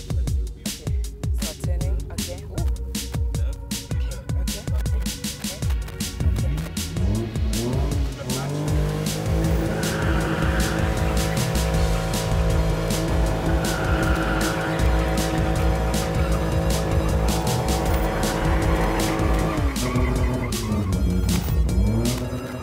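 A BMW E30 spinning at a township drift event, its engine revving hard under a sustained loud tire squeal that runs continuously for over twenty seconds, close and overpowering, with crowd noise and voices buried beneath.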